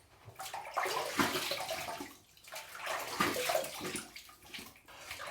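A razor is rinsed under running water: close, gushing, uneven splashing in two main surges about two seconds apart, each rising and easing off, with no talking.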